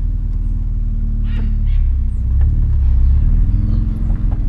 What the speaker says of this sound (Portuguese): O escape dele fica batendo, fica pegando ali, fica batendo embaixo do carro ali.